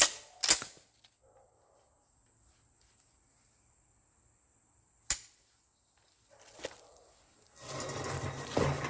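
Pump shotgun shots fired at a bucket outdoors: a sharp loud report near the start, a second isolated shot around the middle, a softer thud after, then rustling handling noise, with quiet background between.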